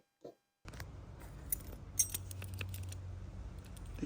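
Original keys for a 1981 Corvette handled up close, with small metallic clinks and jangles over a low background hum.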